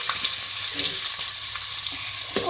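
Two medium onions sizzle steadily in hot oil as the base for a potato, cauliflower, spinach and pea sabzi, a dense, even crackle with a few soft stirring knocks, close and constant with no talk.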